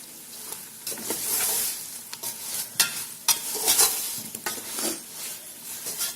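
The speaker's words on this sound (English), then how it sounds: "Just add this to the caramelized onions and give it a quick stir." Spices being stirred into caramelized onions frying in a pan, with a bright hiss and crackle that swells and fades as a utensil scrapes and clinks against the pan a few times, close up with no voices.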